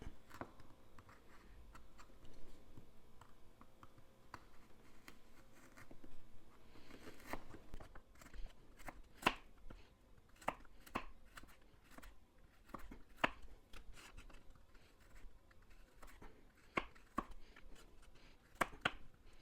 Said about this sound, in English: I think that's enough carrot cutting